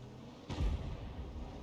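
A tank shell striking a heavy tank in the World of Tanks video game, one sudden deep thudding boom with a low rumble that trails off into a steady background hum, with no talking.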